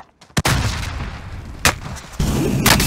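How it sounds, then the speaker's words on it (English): Loud gunshots and heavy blasts crack out sporadically in a Call of Duty Cold War firefight, three sharp reports over a dense rumbling background of battle noise. "I'm getting shot at fucking everywhere"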